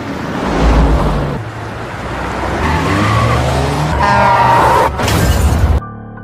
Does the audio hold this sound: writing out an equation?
no